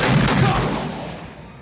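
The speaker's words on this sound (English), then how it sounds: "Don't fire the gun while you're talking!" A single booming gunshot from a comedy film scene, loud at the start and decaying into a long fading tail.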